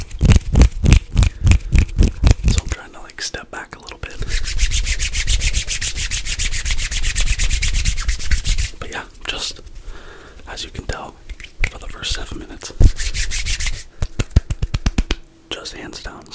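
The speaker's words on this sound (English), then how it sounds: "Crisp hand sounds. Fast and aggressive hand sounds." Fast, aggressive hand rubbing close to the microphone, made for ASMR. Crisp, dense friction comes in rapid bursts and longer continuous stretches, with some snapping accents and soft whispering woven through.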